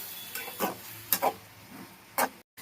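Tomato egg curry gravy simmering in a covered pan gives a soft background bubble broken by a few short, crisp pops and sizzles, close by and fairly quiet, ending in brief silence.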